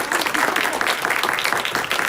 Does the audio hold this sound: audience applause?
yes